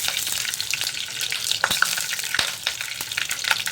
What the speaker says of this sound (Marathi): जिरं तडतडलेलं आहे